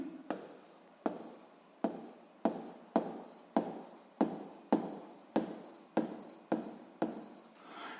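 A physics formula being handwritten, a regular series of about a dozen short scratchy strokes, each starting with a tap and fading, close and clear with a quiet background.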